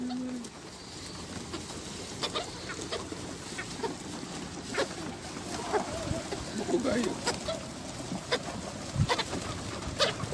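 Pigeons outdoors give odd clucking, coughing calls, soft and fairly distant, scattered among low ambient noise and faint background sounds.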